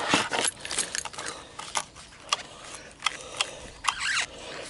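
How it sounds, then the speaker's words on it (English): Keys jangle and clink as they are dug out of a pocket beside a 1999 Yamaha Blaster ATV, a close series of small metallic rattles and taps spread irregularly over several seconds. "while I dig out the keys"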